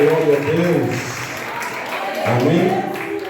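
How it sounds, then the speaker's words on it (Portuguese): A church congregation claps steadily in praise during a family worship service, the dense applause running beneath a preacher's loud voice. "dê uma salva de palmas com alegria"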